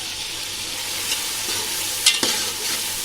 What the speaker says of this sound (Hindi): प्याज का बिरिस्ता बना के रखेंगे ना, तो बिरयानी फटाफट हो जाती है।